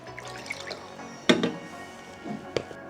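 Paint thinner is poured into a measuring container while a Doctor Doom helmet prop is being made, giving faint trickling and dripping with a couple of sharper splashes and clinks over quiet room noise.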